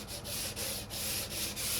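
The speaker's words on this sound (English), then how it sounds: "So I'm gonna take some 220 and just kind of go around the edge" Light hand sanding around the edge of a wooden skateboard deck with 220-grit sandpaper, a close, steady scratchy rubbing in back-and-forth strokes with brief pauses between passes.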